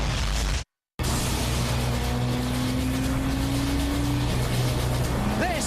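A Lamborghini Murcielago Roadster accelerates with a loud, continuous roar, its engine note climbing steadily after a brief cut in the sound.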